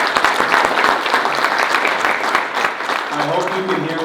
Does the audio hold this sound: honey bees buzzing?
no